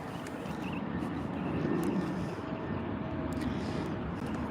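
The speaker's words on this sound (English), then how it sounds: "north side arrival, number 2 for arrival. Flight 112 from Manila." A jet airliner on a 12-hour flight from Manila approaches for a north-side arrival, a steady, fairly distant rumbling roar that holds evenly throughout with no talk.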